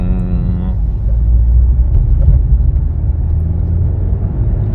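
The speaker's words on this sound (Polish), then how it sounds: "gaz jedzie, no ma, ma chęć jechać ten samochód, kurczę, naprawdę, na 122 konie" A 2013 Volkswagen Golf VII 1.4 TSI Comfortline with 122 hp accelerates, heard from inside as a steady low engine rumble and road drone after a brief higher tone fades at the start.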